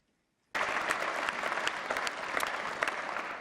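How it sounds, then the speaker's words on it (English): Sudden burst of applause fills the European Parliament plenary chamber, starting abruptly after a moment of near silence and holding steady as a dense, sustained clatter of many hands. "It's strange if we didn't get applause at that point in the speech"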